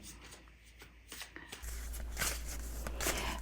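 Tarot cards are shuffled in a rapid papery riffle that starts softly and grows into a steady, close flutter of shuffling.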